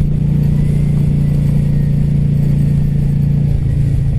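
A 2018 Harley-Davidson Fat Bob motorcycle engine idles with a steady, deep, loud rumble and low throbbing pulse, close and constant throughout.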